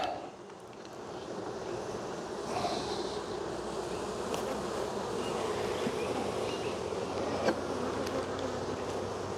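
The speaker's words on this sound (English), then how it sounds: "Get all the bees off my prop, except for the ones that are in my face." A swarm of honey bees drones around hive boxes during a colony split, a dense, steady buzz close by with occasional louder passes near the ear.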